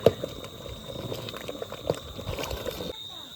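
Khichuri bubbling in a cooking pot after a home Kojagari Lakshmi puja, a steady low simmering texture with scattered soft pops and clinks, fairly close, cutting off near the end.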